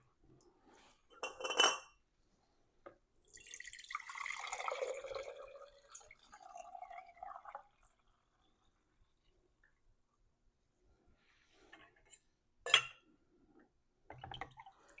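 Homemade chicken broth is ladled into glass canning jars, a quiet trickle and pour of liquid mixed with soft clinks of glass and utensil, coming in short separate bursts with silent gaps between them.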